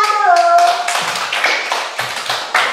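Classroom clapping in short, uneven bursts of sharp slaps, a few rhythmic claps close by after a brief voiced tone at the start.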